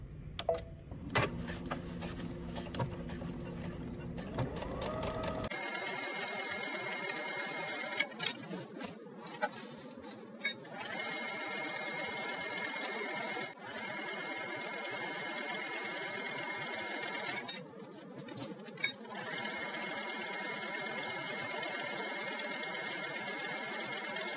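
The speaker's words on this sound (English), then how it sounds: "stitch about 1/8 of an inch from that seam line" A sewing machine runs a steady, close whirring stitch along the top seam of a tie-front top, about 1/8 inch from the seam line, after a brief start-up, with short pauses near the middle and later on and no talking.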